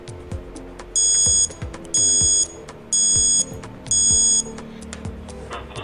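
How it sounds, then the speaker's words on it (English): Charger Leash alarm rings in four evenly spaced bursts of shrill electronic beeping, each about half a second long, loud and close over a busy background of low clattering and hum. "It's preset to ring as soon as you unplug your device."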